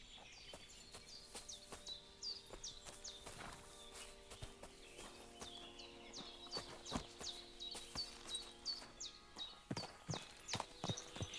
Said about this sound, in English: Or should I talk to you while I'm on the horse?